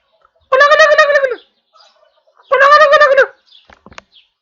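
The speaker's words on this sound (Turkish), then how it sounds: "Şu kuş sesine bakın." Two loud, close, rattling gobbling calls, like a turkey, each lasting about a second with a pause between, over near silence.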